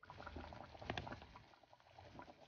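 Mackerel curry bubbling in a pot, a soft, low simmering burble with small liquid pops, heard close and alone without any talking.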